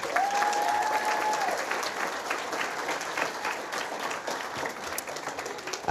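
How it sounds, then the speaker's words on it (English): A fan festival crowd gives a big round of applause to the Newhook family at the Royal LePage Alex Newhook & Friends FanFest. Steady, loud massed clapping carries throughout, with a brief high whistle near the start. "can we get a big round of applause for the Newhook family"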